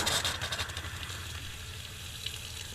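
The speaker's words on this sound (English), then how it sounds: "With this tap we can also change the water flow" A camper van tap runs with a steady hissing rush of water, briefly louder and splashier at the start before settling into a softer flow.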